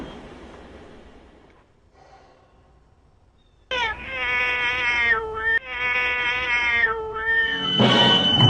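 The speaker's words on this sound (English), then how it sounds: "Hey, Kiwi, I think now is a good time to roll the cat video." A cat meowing, two long drawn-out wailing meows back to back after a quiet stretch, loud and close, followed by a rougher noisy burst at the end.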